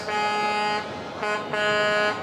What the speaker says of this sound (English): You're seeing their truck, all dressed in red, honking their horns.